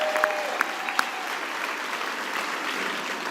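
Sustained crowd applause for graduates of the Faculty of Theology and Religion at an evening university graduation ceremony, a broad even roar of clapping filling the hall with a few sharper claps near the start.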